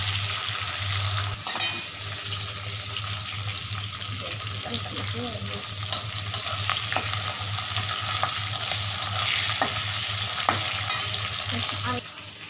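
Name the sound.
onions being stirred while frying in a pan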